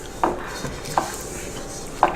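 Shortbread dough being patted down into a pan, heard as three soft, dull pats spaced irregularly over a quiet kitchen background, close and fairly faint.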